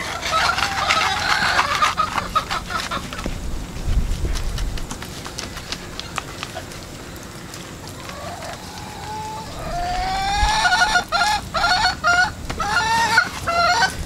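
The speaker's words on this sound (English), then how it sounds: "The chickens are starting to come over to try to get a bit of this" Chickens cluck and squawk nearby in several bursts, with rustling and occasional louder calls, no talking.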